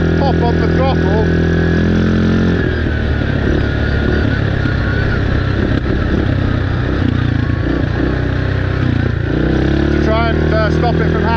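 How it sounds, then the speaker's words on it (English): A Yamaha Grizzly 700 ATV engine idles loudly up close, with a rough throttle blip that swells and roughens the engine note in the middle before it settles back to idle; a voice talks over it. "I just give it a little pop on the throttle."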